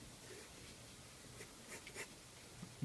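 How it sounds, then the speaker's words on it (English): Pencil drawing dark strokes on paper while sketching Harley Quinn: very faint, close scratching with a few brief louder strokes over a low background hiss, no voices. "drawing very dark because in this section I'm going to put another paper over it."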